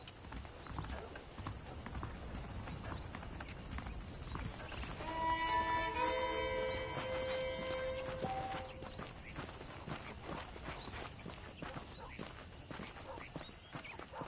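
Saddled horses clop along at a walking pace in the Red Dead Redemption video game, steady hoofbeats with a brief melodic music cue in the middle and faint background ambience.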